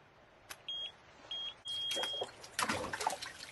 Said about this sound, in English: it's one of those metal detector thingies